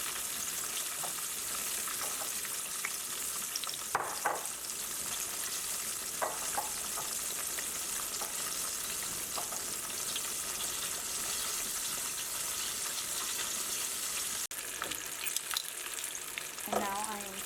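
Flour-dusted snapper frying in a pan, a continuous dense sizzle and crackle for the whole stretch with occasional faint clinks and scrapes, close and steady with no voices.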